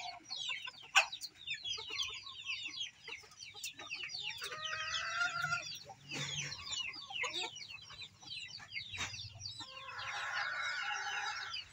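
Pet chickens cluck and chatter close by in a busy flock, overlapping calls rising and falling without pause, no talking.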